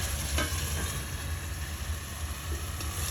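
Mushrooms for a mushroom curry sizzle and fry steadily in a pan, a soft continuous crackle with a few faint clinks from stirring.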